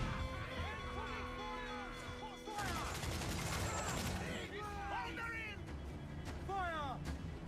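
A cannon fires in a video game with booming, crashing blasts among game noise. A voice speaks over it, with swooping tonal effects before and after the loudest burst.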